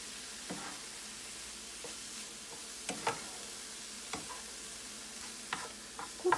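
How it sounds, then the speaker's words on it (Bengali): Turmeric, garam masala and chaat masala are stirred into a vegetable paratha filling in a pan. A faint sizzle runs under soft, irregular spatula scrapes and taps. "খুব ভালো করে এবার প্রতিটা জিনিস মিশিয়ে নেব"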